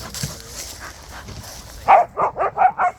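Puppies on an excavation site for a new home give five quick, loud barks in a steady rhythm near the end, after a stretch of quieter yips and faint background noise.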